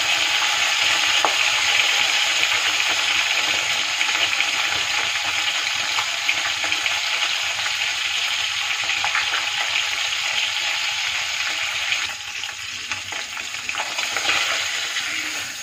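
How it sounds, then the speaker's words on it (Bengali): Rohu fish fries in oil, a loud, steady hiss and crackle that runs unbroken, easing slightly near the end, with no one speaking. "এপিট ওপিট করে খুব ভালো করে মাছটা ভেজে নেওয়ার পর তুলে নেব।"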